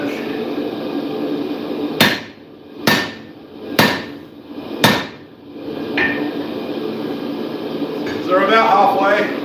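Four loud, sharp hammer blows strike steel while a straight peen hammer is forged, spaced about a second apart over a steady workshop hum, with a fainter knock afterward and a short metallic scrape near the end.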